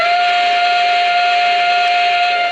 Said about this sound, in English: So, for instance, the whistle here, if you look on the engine here,